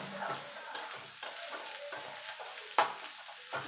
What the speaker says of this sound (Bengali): এবার পেঁয়াজটা একটু লাল লাল করে ভেজে নেব